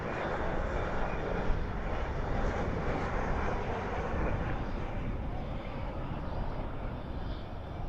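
A Boeing 777-200 from Seoul touching down at night at Dallas/Fort Worth International Airport, spoilers up and thrust reversers deployed, gives a steady, loud broadband engine roar that holds evenly throughout.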